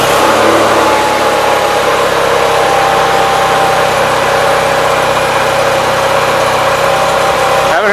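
A 1976 Gravely 816 garden tractor fitted with a Kwik-Way loader sits idling, a steady, close mid-pitched engine drone with a constant low hum throughout and no talking.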